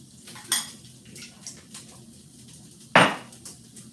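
A spoon stirring honey and rice vinegar sauce in a bowl, a few distinct clinks and scrapes against the dish, one sharp clatter standing out among softer taps, close and without talk.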